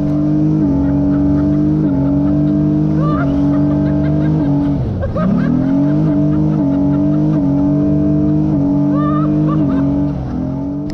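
Watercar Panther amphibious car with a 3.7 litre V6 engine, loud steady engine drone close up, dipping briefly midway and then pulling back up as it accelerates over about eleven seconds.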